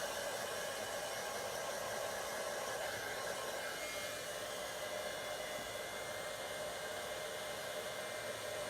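A heat tool blows a steady, even whoosh of hot air while setting embossing powder, a constant fan hiss with no breaks and no voices, close and moderately quiet.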